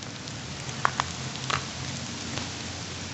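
Steady rain hisses on ice-coated ground and trees during an ice storm, a dense even wash of sound with a few brighter drips and taps standing out near the start.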